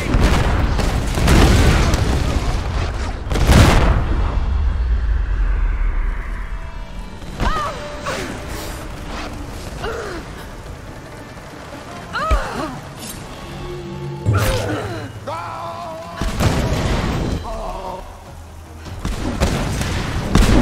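Bridges being blown up in the 2013 Tomb Raider video game, a series of heavy explosions and rumbling booms with debris crashes, spaced across the stretch, with brief shouting voices in between.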